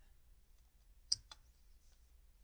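Two quick, crisp computer mouse clicks in close succession while sharing a folder in Google Drive, sounding near but soft against a quiet, low room hum, with no talking.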